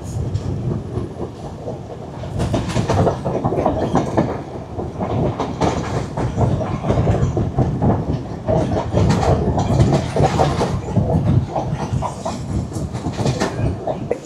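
A passenger train runs along the seaside Colombo to Galle line in Sri Lanka, heard from on board as a loud, steady rumble with continuous clickety-clack of wheels over rail joints throughout.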